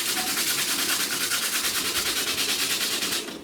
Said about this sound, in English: It's just get it sanded to rough it up